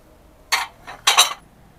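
Ceramic plates and dishes pulled from a cardboard box at a rubbish bin, clinking together in two quick bursts, close and fairly loud with no talk.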